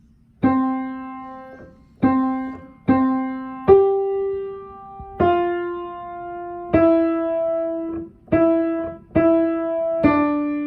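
A simple melody played one note at a time on a piano, nine clear notes in steady rhythm, each ringing and decaying before the next.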